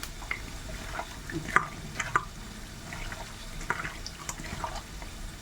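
Raw duck meat is squished and kneaded by hand with spices for a curry, giving soft wet squelches and a few sharper smacks, close and quiet with no talk.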